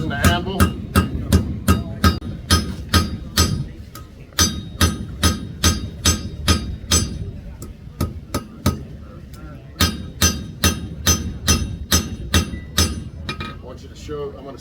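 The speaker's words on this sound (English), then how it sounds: "I want you to see the angle of my hammer when I was just hitting that." Hammer blows ringing on steel against an anvil during knife forging at a gunmakers fair demonstration, loud rapid rhythmic strikes in bursts with short pauses, bright metallic clinks, faint voices in the background.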